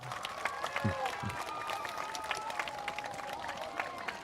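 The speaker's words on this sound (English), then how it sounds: "can we give them a huge round of applause for..." School staff receive a round of applause from an assembled audience at an outdoor school flag gathering, steady clapping spread across the crowd, with a few voices and murmurs mixed in.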